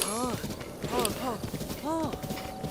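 Horse hooves clip-clop in quick rhythmic beats while riding in The Legend of Zelda: Breath of the Wild, heard under a speaking voice and game sounds.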